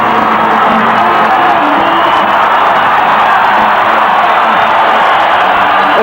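A packed boxing arena crowd at Mandalay Bay for a big fight roars continuously, a loud dense wall of cheering and yelling that stays steady throughout.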